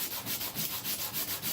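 Hand sanding scrapes the underside of a Seydel Saxony harmonica slider in quick, even back-and-forth strokes, close and rhythmic, about eight passes.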